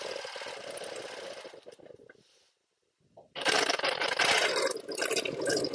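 Sewing machine quilting with ruler work, a loud rapid needle stitching that stops for about a second, then resumes even louder, close up.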